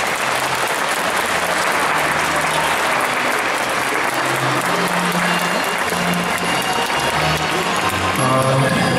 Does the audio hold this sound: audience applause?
yes